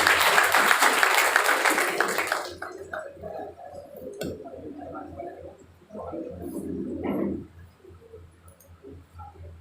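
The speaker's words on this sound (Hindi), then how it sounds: "तालियों के साथ।" Applause erupts from an audience at an education movement introduction ceremony, bursting densely for about two and a half seconds before cutting off abruptly, after which quieter voices and scattered sounds follow.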